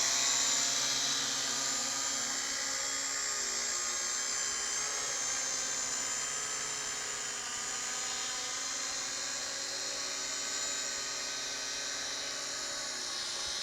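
A Syma X8 clone quadcopter drone hovers steadily in a garden, its rotors giving off a constant high-pitched whine and buzz that stays at a fairly even loudness throughout, with no talking.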